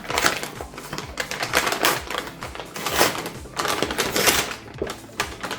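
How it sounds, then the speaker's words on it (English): Paper packaging around an Amazon Fire TV Stick 4K Plus is torn open by hand, giving a close run of crisp rips, crackles and rustles that keep going for several seconds, with no talking. "It's a paper pack we can tear apart directly."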